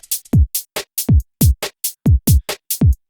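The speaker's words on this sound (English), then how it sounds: "I just want that shaker loop." A UK garage shaker top loop plays alone, crisp bright shaker hits in a fast, steady syncopated pattern with short punchy low thumps woven in, loud and close.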